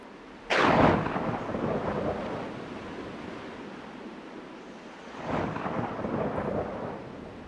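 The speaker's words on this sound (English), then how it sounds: "until a storm came" Two sharp thunderclaps, the first close and loud, the second softer, each rolling into a long rumble over steady rain and wind in a dark stormy game scene.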